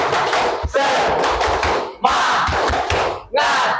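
A group performs a rhythmic clapping chant (tepuk semangat) at a school guidance session. Loud, energetic bursts of clapping and shouting come in three or four surges separated by brief pauses.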